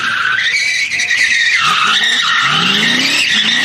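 A car skids with loud, sustained tire squeal at a Powercruise drag race in Sydney, mixed with a roaring engine and shifting pitch over several seconds.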